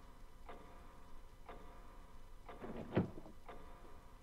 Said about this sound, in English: And then that little door opened on the clock. Which you can barely see, but you can hear it.